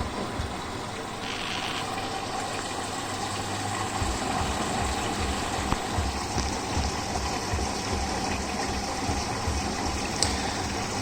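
A Beko WMB71233W washing machine fills with water to its highest rinse level, giving a steady, fairly quiet gushing hiss over a low pump hum that runs unbroken throughout.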